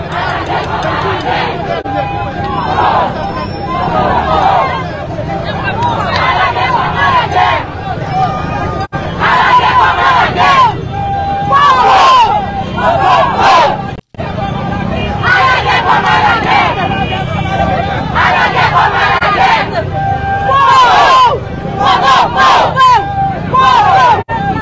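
A large crowd moving and shouting in the street, loud continuous roaring voices and chants with engine rumble beneath, surging in waves and briefly cut off twice.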